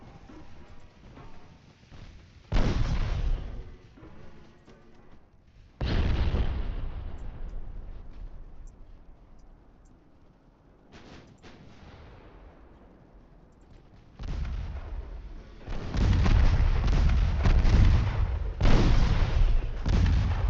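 Warship guns fire in a naval video game battle, heavy booming salvos landing at irregular intervals, each loud blast followed by a long rumbling decay, with quieter stretches of distant rumble between them.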